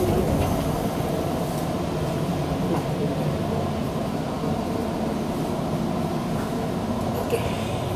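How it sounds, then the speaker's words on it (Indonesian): Inside a moving KRL Commuterline electric train out of Depok Baru, a steady rumbling rail drone and carriage hum carry on throughout, with faint clatter and no speech. "Oke, kita sudah masuk ke kereta."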